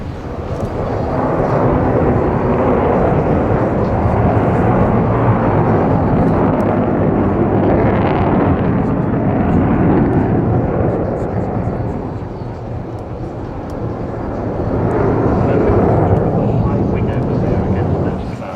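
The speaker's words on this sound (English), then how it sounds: "Beautiful backdrop to have this wonderful aeroplane displaying in front of us." Avro Vulcan XH558 delta-wing bomber in a flying display at the Bournemouth Air Festival, a loud, roaring jet engine rumble that swells, dips briefly and surges again as it passes, with a commentator talking over it.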